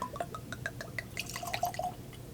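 Michter's 10-year bourbon poured from the neck of the bottle into a glass, with quiet trickling and dripping splashes, faint and close, no talking.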